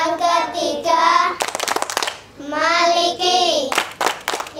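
Children at a Quranic learning center perform a rhythmic clap chant, singing voices alternating with bursts of quick, sharp group clapping in a steady pattern.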